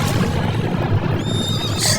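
A horse whinnies as a sound effect in a narrated Hindi moral story, a shrill rising neigh that cuts through a dense, loud background bed late in the short moment.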